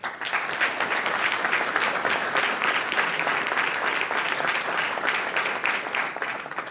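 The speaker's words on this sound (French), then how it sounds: "J'aimerais qu'on l'applaudisse." Steady applause from an audience at the official opening of a citizen consultation, a continuous, even wash of many hands clapping at close range that holds throughout.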